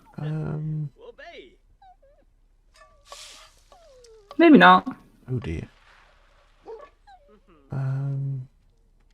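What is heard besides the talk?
hungry dog whimpering in video game The Sims 4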